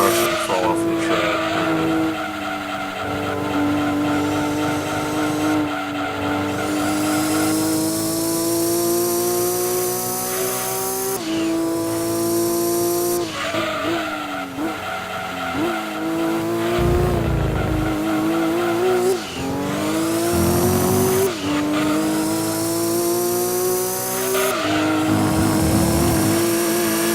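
Race cars from the PlayStation game Gran Turismo 2 run a track with sustained engine drone, shifting pitch and repeated tire squeals and skids, loud throughout with a voice talking over the action.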